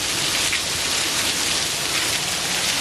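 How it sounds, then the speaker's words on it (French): Heavy rain falls in a dense, steady hiss, close and loud, with no voices over it. "Regardez comme il pleut."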